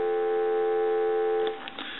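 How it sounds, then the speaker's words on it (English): Telephone dial tone from a phone under repair, steady and alone for about a second and a half, then cut off with a few faint clicks. "Give you some dial tone"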